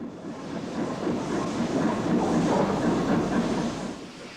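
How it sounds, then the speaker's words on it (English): Isle of Man Railway steam locomotive No. 12 Hutchinson, built in 1908, pulls coaching stock out of carriage sidings, a steady broad rumble that swells gently and stays continuous at moderate level. "Number 12 Hutchinson, dating from 1908, pulls out stock from carriage sidings on the opposite side of the main line from the motive power depot."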